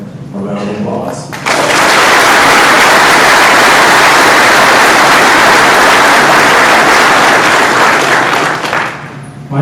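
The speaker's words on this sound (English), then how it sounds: "let's give that avant-garde a round of applause" Loud audience applause at a state fire school opening ceremony, a dense wall of clapping that starts abruptly after a brief bit of speech and holds steady before tapering near the end.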